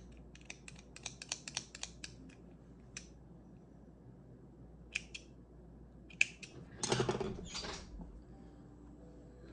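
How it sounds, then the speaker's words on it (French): Scissors snip crochet yarn for a granny-square hat, giving a string of quick, close, sharp clicks followed by a louder rustling snip and a few scattered ticks, with no talking. "On coupe le fil."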